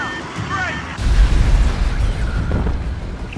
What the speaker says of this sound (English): That was one shot from a plasma cannon. It took out that ship.